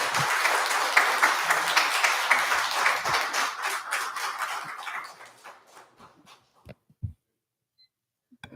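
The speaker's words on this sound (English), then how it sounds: "there is no clapping after a speaker speaks" Applause from an audience at a city council meeting in South Gate, a dense burst of many hands clapping that thins out over several seconds to a few scattered claps before falling quiet.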